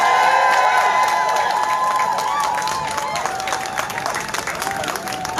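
Crowd at an anti-racism march and rally in Glasgow claps and cheers loudly and steadily, a dense wash of applause with raised voices and some tonal whistling or music over it, fading slightly toward the end.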